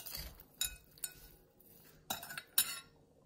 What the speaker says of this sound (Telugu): ఇప్పుడు బాగా మిక్స్ చేసేయాలి దీన్ని. ఇదంతా మిక్స్ కావాలి.